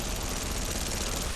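Dense, continuous automatic gunfire in the video game Apex Legends, a battle royale shooter, sounds as a loud, steady rattle with no pauses.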